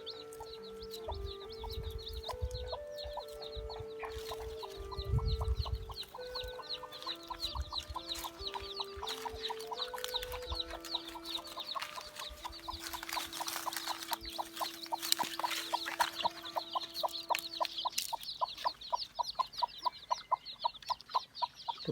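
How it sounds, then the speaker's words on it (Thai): A mother hen with a yellow-necked hackle clucks in low repeated calls among tall grass on a hot day while her six chicks peep high and continuously nearby, with scattered rustling throughout. "ตัวนี้นะครับแม่ไก่"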